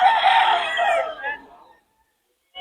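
A rooster in Bocaue crows once, loud and close, a long strained call that fades out after under two seconds, followed by near silence.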